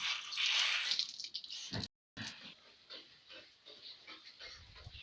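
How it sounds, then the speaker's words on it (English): On a farm, a pig drinks from a nipple drinker, giving a burst of hissing, splashing water followed by a series of soft, rhythmic slurps and sucks up close. "So that one is enjoying some water from the nipple"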